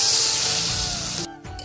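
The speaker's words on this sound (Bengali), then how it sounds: "এখন দিয়ে দিব জল।" Water poured into a pan of frying egg curry masala with onion, ginger, garlic, cumin, turmeric and chopped tomato gives a loud, steady hiss-like rush for over a second, then drops off abruptly into a quieter simmer.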